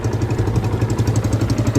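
Motors of an SJRC F11 Pro 4K GPS drone running close by, a loud, rough whirring buzz with a rapid pulsing flutter, steady for the whole stretch and heard with no talk.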